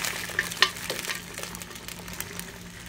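Boiled beef is stirred into a pot of kaldereta, with a soft continuous sizzle under light scraping and a couple of sharper utensil knocks early on; no voices.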